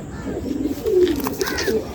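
A Madrasi pigeon gives a few soft, low coos close by, brief and gentle against a quiet room.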